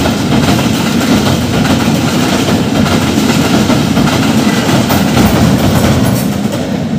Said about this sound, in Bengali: ট্রেন চলে আসছে দ্রুতগতি।